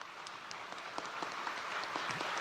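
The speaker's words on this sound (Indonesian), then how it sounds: "Tepuk tangannya kan nggak meriah?" Light applause from a crowd, scattered clapping that builds slightly and stays fairly faint, with no talking.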